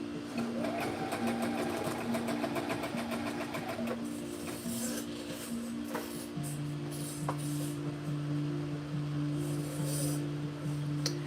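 Sewing machine stitching a Simplicity 9835 cosplay pattern, running steadily and close throughout with a fast, even mechanical whir whose pitch shifts partway through, broken by a few small clicks.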